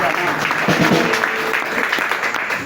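A church congregation in the village of Aloum, southern Cameroon, bursts into dense, close applause and cheering during a service, with voices mixed into the clapping throughout.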